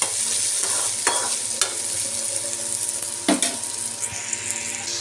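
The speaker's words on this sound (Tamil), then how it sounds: "வெங்காயத்தை நல்லா வதக்கலாம்." Onions and dried manathakkali berries sauté in a hot pan for vatha kuzhambu, a steady sizzle broken by several sharp scrapes of a stirring spoon.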